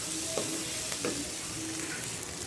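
Onions with ginger garlic paste are sautéed in a pan, with a steady close sizzle and a few stirring scrapes.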